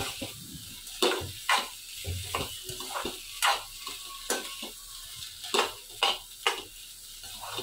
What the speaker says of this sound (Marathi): आपल्याला सतत ढवळत हे बटाटे चांगले आपल्याला व्यवस्थित एकजीव करून घ्यायचे आहेत